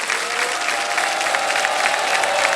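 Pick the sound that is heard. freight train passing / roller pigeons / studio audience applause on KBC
studio audience applause on KBC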